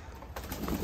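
A pigeon coos softly nearby in a home garden, a brief, low, throaty warble against a quiet outdoor background.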